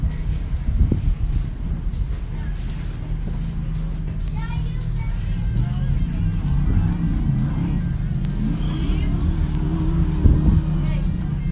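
An off-road race truck set up for short course racing roars through a desert qualifying run, its engine note rising and falling and growing louder, with a commentator talking over it.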